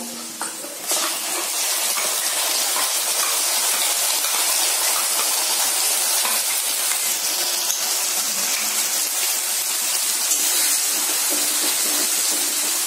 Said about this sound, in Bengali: আমি যেসব জিনিসগুলো পেস্ট করে নিয়েছিলাম, টমেটো কুচি, পেঁয়াজ, রসুন, আদা, লঙ্কা, সেটা এখন দিয়ে দিব